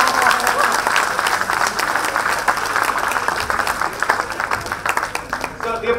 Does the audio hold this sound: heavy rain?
no